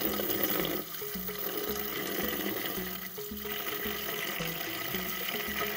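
Tap water running steadily as makeup brushes are rinsed after washing with soap, a continuous close splashing flow with slight changes in tone as the brushes move under the stream.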